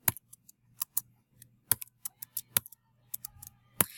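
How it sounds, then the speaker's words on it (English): Keys on a computer keyboard are tapped in short irregular bursts of sharp, quiet clicks with brief pauses between, close by and faint overall, with no talking. "I can't type today"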